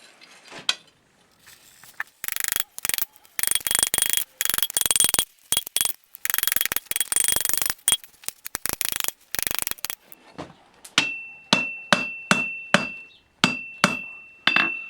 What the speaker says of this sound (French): Donc je vais réchauffer ça. Je vais continuer à frapper.